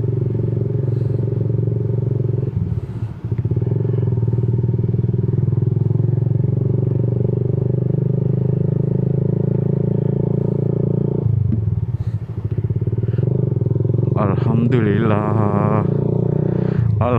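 Yamaha Jupiter MX motorcycle fitted with a DBS racing exhaust, idling and revving with a steady loud low drone throughout, the engine note shifting near the end while people talk over it.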